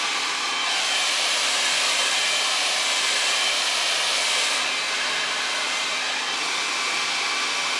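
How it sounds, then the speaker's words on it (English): A faulty GHD hair dryer blows steadily at close range, a loud continuous whooshing hiss with only slight shifts in tone. "My blow dryer is really busted."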